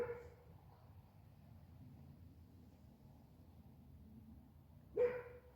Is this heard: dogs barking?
yes